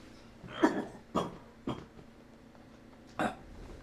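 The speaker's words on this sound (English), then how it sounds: "I'm sorry, I'm coughing." Four short, dry coughs spaced out over a few seconds, close and moderately loud, with a quiet background between them.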